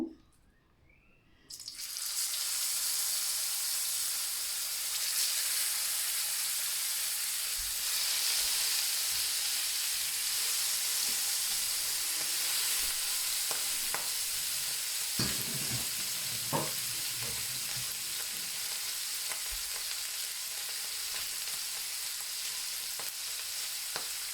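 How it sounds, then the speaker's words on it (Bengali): Fish frying in hot oil on a stovetop: after a brief quiet start, a loud, steady, hissing sizzle runs continuously to the end, with faint crackles and small pops scattered through it. "প্রথমে চুলায় মাছ ভাজার জন্য কিছুটা তেল গরম করে নিলাম। এরপর ধীরে ধীরে মাছগুলো দিয়ে দিব।"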